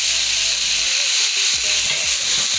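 Fish and spices frying in a pan give a loud, steady sizzle that bursts into a hissing roar as water goes in, with a few scraping stirs near the end.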